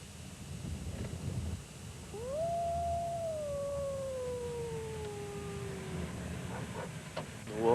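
Wolves kept on a farm let out one long, mournful howl that rises and slowly glides downward, with a second fainter howl overlapping it, over a soft outdoor background hiss.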